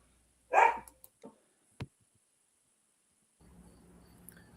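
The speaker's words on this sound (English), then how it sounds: "I guess that had to be Hillbilly's dog" A single sharp dog bark rings out in a quiet room, then a few small knocks and a faint low murmur of background noise, with no talk.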